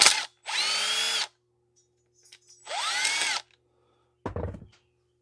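A cordless power tool spinning out the top bolt on a Stihl MS500i chainsaw intake area, three close whirring bursts with a ratcheting pitch sweep, separated by quiet gaps and ending in a short rattle.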